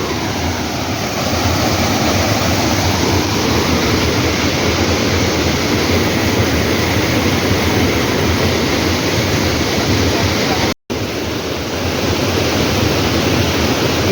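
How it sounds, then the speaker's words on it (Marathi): A loud, steady rush of flowing water fills the whole stretch without letup, broken only by a split-second dropout near the end. "पाण्याचा आवाज आहे का आवाज"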